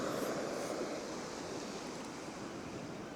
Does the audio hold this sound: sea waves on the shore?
yes